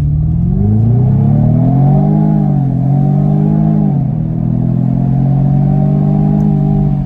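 Jaguar F-Type P300 engine held on brake and throttle for a launch start, a loud steady rev near 2000 rpm droning with slight rises and dips, close and continuous with no talk.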